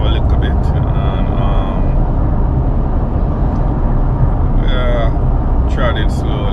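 A car drives along the road on a road trip toward Kissimmee, with a loud, steady low road-and-engine rumble heard from inside that continues without a break.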